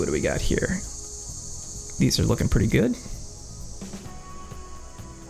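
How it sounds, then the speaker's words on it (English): Cicadas outside an open window keep up a continuous high, steady buzzing drone at moderate level, heard beneath a man's speech and carrying on after he pauses. "You guys can probably hear the cicadas outside my window."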